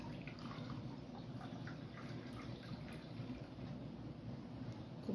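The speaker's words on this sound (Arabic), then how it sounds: "هنحط المية بتاعتنا، مية عادية من الحنفية" Ordinary tap water runs from a kitchen faucet to be measured into a cup for pizza dough, a faint, steady trickle with light dripping and nobody speaking.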